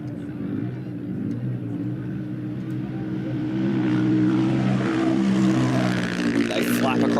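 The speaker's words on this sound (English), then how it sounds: "The 610 bike is coming in now." Race motorbike arriving at the finish line of the Finke Desert Race, an engine drone building louder as it approaches, with an announcer talking over it.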